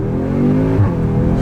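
A stock Audi S3 engine revs up, its deep harmonic drone rising steadily and loud with a brief surge near the end, heard close with no talking over it.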